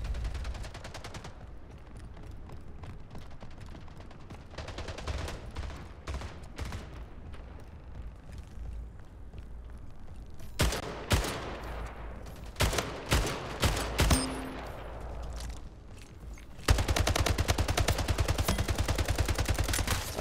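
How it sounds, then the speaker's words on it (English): An assault rifle fires in the video game SplitGate in long rapid bursts and separate volleys, with sharp cracks over a steady background, ending in a sustained stream of fire. "I don't like the assault rifle"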